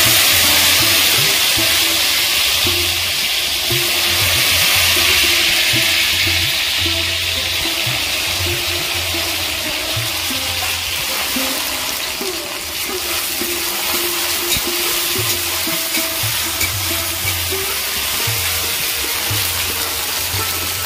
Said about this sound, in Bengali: ঢেঁড়সগুলো ভেজে নেব।